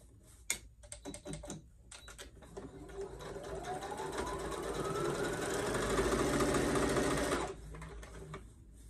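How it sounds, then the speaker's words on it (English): Straight-stitch topstitching along a seam of a halter top mermaid prom gown with a tulle skirt on a sewing machine. A few short clicks come first, then a close, steady run of needle chatter that rises slightly in speed and stops abruptly. "you sew it down using a straight stitch"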